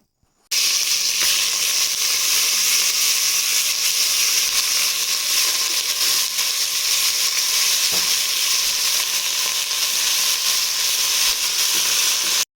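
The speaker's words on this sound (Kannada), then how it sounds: "ಎಣ್ಣೆ ಬಿಸಿ ಆದಮೇಲೆ ಚಿಕನ್ ಆ್ಯಡ್ ಮಾಡ್ತಾಯಿದ್ದೀನಿ" Chicken pieces drop into a spoonful of hot oil in a pressure cooker and set off a loud, steady, close-up hiss of frying that holds evenly with no talking.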